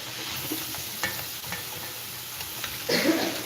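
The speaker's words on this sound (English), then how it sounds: "We're gonna saute this just for a couple minutes, just until it starts getting soft." Vegetables sautéing in a pan for soup give a soft, steady sizzle with a few clicks of stirring, and a brief louder scrape near the end.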